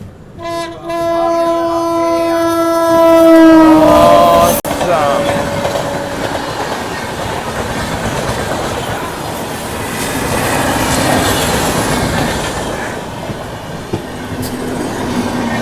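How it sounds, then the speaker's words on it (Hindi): A passing express train, the Tata Nagar–SMVT Bengaluru Express, sounds a long loud horn blast on the main line, then a sustained roar and rattle of wagons rushing past nearby for the rest of the clip. "सामने से कोई तो ट्रेन आ रही है"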